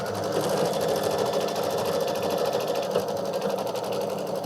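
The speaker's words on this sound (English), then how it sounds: "press go, and it's going to stitch the tack down. So we're tacking that down." A computerized embroidery machine stitches a tack-down line on a Kimberbell mug rug project, a steady, rapid mechanical needle chatter that runs on evenly and close by without pause.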